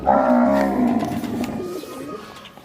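A cow moos loudly and close by, a long drawn-out low call that tapers off, with no talking.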